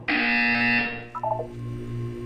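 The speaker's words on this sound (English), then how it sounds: "You will hear a buzzer." A loud, steady electronic buzzer sounds for about a second in the game Portal 2, followed by a short burst of quick rising beeps over a low ambient hum.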